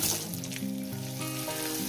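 Potatoes with a little turmeric fry in hot oil for aloo dum, giving a steady, close crackling sizzle under a faint background tune.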